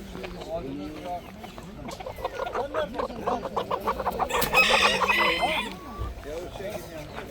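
A crowd of chickens and village chicks clucking and chirping at a poultry market in Hendek, Sakarya, with a rooster crowing partway through, amid people talking in the background.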